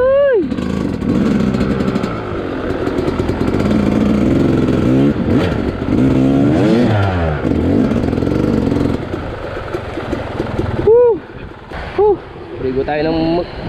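Motorcycle engine riding over a rough, rocky road section, revving and fluctuating with rattling clatter, close and loud, with voices talking over it.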